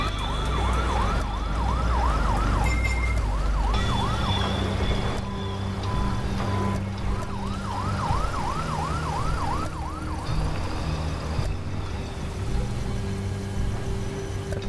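Wailing fire truck siren from the firefighting video game Fire Commander, rising and falling in repeated cycles over steady engine rumble and game ambience, fading in and out across the scene.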